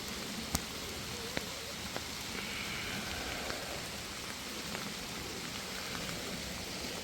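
Steady rain falls on private land near a narrow creek north of Minnewaska State Park on an evening, a dense even hiss with a few sharper drop taps scattered across it, no voices.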